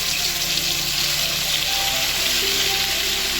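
Green peas hit hot white oil in a wok, giving a steady, loud sizzle and hiss that runs unbroken for several seconds with no speech.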